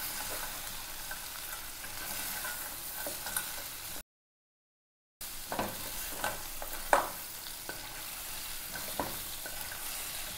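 Cleaned crab tossed in masala for a crab fry, stirred in a pan with a soft sizzle and repeated scraping, clinking strokes; a brief dead gap interrupts, then stirring resumes, fairly quiet overall.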